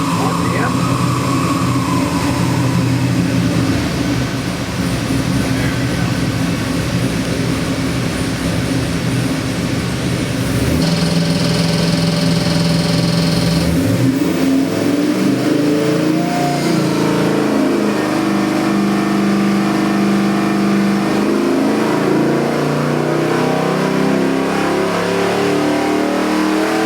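An LS7 427 cubic inch 625 horsepower crate engine fires up and revs, a loud continuous mechanical roar that rises and falls with throttle blips, with a sharper surge midway and changing pitch toward the end.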